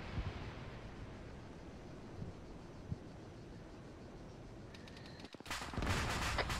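Machine gun fire from behind a hill, faint and distant bursts in wind-swept open ground, with soft thuds scattered through and a louder rush of noise near the end.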